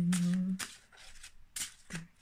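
Cards shuffled during a Capricorn spirit card reading: a few short riffling bursts, close and fairly soft, with a brief hum of voice at the start.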